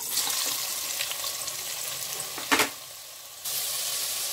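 Onions sizzling in hot mustard oil in a pressure cooker, a steady bright hiss with a brief louder burst partway through and a short dip before the sizzle resumes.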